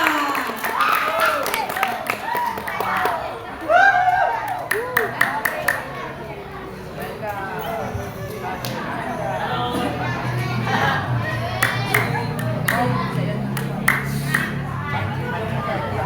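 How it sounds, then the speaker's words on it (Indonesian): A school audience claps and cheers for a student named Desta, a grade 11 student, as she is called up; a crowd of voices and children chatter through the sustained applause, with a few sharper claps rising near the start. "Tepuk tangannya untuk Desta."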